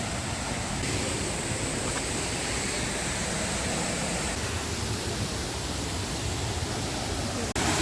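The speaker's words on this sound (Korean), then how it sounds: "자, 여기가 함양의 용추폭포입니다." The Yongchu waterfall in Hamyang, Korea roars as a powerful, continuous rush of falling water, loud and close, steady throughout with no voices over it.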